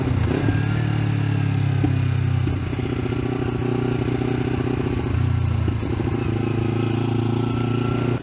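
A Kawasaki Ninja 300 motorcycle ridden on the road, its engine droning steadily and close with a low, even hum, faint shifts in pitch and light wind buffeting throughout.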